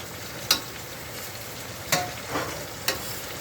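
Ackee and tin mackerel are stirred in a pan, a low steady frying hiss broken by three sharp spoon clacks against the pan, close and with no talk.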